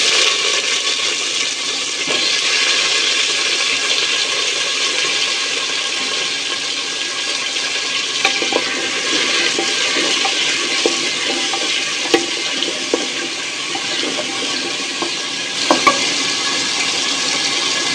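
Sliced, washed potatoes tipped into hot oil with lightly browned onions, giving a steady soft sizzle with occasional small pops and stirring clicks, no talk.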